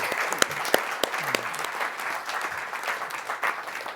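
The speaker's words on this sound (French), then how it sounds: "Je pense qu'on doit vraiment s'applaudir collectivement" Applause from the audience at a press conference, a steady wash of many hands clapping at moderate distance with a few sharper nearby claps, continuing evenly throughout.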